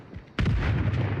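A single loud shotgun blast in the zombie survival game Project Zomboid, a sharp close boom with a short decaying tail and no talk.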